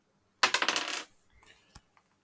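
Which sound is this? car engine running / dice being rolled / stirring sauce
dice being rolled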